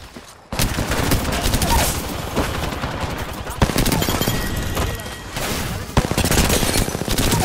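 Loud, dense gunfire from an Apex Legends Season 15 match, rapid overlapping bursts running almost continuously with sharper cracks standing out, voices mixed in beneath the shots.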